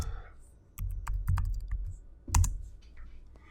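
Typing on a computer keyboard: a few brief clusters of close, crisp key clicks with short pauses between them, over quiet room noise.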